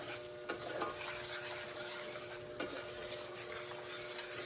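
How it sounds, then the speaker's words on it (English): Butter and sugar for salted caramel cook in a pan, giving a steady close sizzle with stirring scrapes and a couple of louder clinks, no talking. "You're just going to have to cook up the butter and the sugar until it really browns up."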